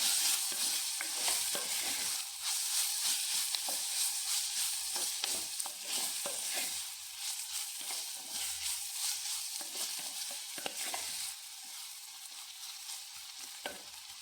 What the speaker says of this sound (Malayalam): ഇടയ്ക്ക് ഇളക്കി കൊടുക്കുക